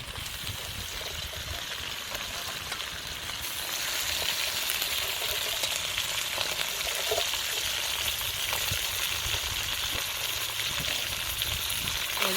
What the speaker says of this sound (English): we're just going to cook that until those crabs start changing colour